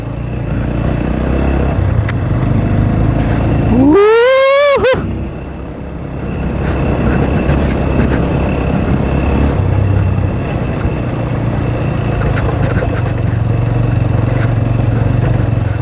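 An old, worn-out motorcycle ridden slowly along a rough rural road, its engine rumbling steadily and close, with a brief rising revving whine near the start before settling back into a continuous low drone.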